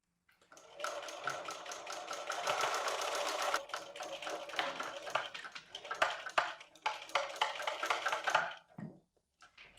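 A sewing machine stitches along the folded edge of a color block throw quilt, a continuous rapid clatter close by, turning choppier toward the end before stopping.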